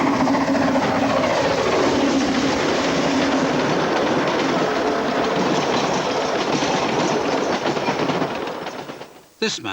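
A miniature train runs on a 15-inch gauge railway across the Kent coast marshland, its wheels clattering steadily and loud and close for most of the stretch before fading away near the end.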